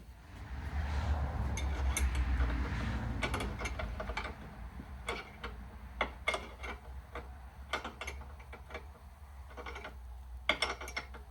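A threaded O2 sensor being tightened on a Mini Cooper with a ratchet: a low hum first, then a series of sharp clicking ratchet strokes in irregular bursts, close and moderately loud.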